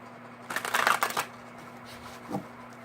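A deck of tarot cards is shuffled in one close, crisp riffle of rapid flutters, followed by a soft tap as the deck settles.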